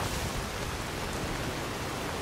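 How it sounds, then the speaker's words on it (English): Steady rain falls in the video game Skyrim, a dense, even hiss spread across the whole range, continuous and fairly loud with no other sounds standing out. "Raining. Great."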